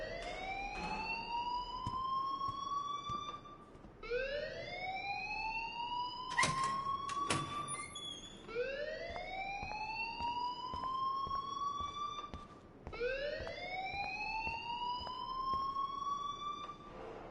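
School alarm blaring in the video game Life is Strange, a repeating rising electronic whoop cycling about every four seconds, loud and continuous, with a brief sharp clatter partway through.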